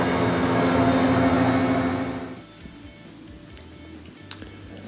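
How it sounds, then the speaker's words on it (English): A Bosch front-loading washing machine spins after a drive belt repair, giving a loud rising whoosh and whine that cuts off abruptly after about two seconds, followed by quiet room tone with faint clicks. "Here it is doing its spin."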